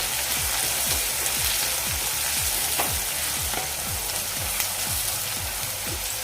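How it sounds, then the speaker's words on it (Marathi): Finely chopped cabbage with turmeric sizzles steadily in a pan, with a regular scraping rhythm of stirring repeating throughout, close and fairly loud. "आता हे एक दोन मिनटं आपण परतूया"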